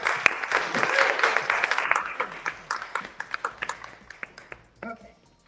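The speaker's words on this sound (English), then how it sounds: "A round of applause." An audience at a book conference in Manhattan gives a round of applause, with steady mixed clapping that thins out into scattered claps over about five seconds, with no talk over it.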